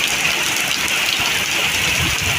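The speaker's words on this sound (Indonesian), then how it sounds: "hujan lebat" Heavy rain mixed with hail pours down in a dense, loud, unbroken roar, pattering hard on surfaces nearby throughout the short stretch.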